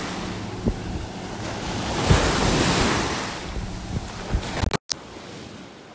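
Gulf of Mexico surf washes in at a North Naples, Florida beach, a broad hissing swell building and fading over several seconds, with gusty wind buffeting the microphone and a few knocks.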